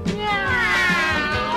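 A cat gives one drawn-out, wavering meow, loud and close, over a soft children's-song backdrop with a low rhythmic bass.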